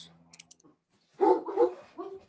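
A rescue Great Dane lets out a few deep barks and a whine, close and fairly loud after a quiet moment with faint sounds.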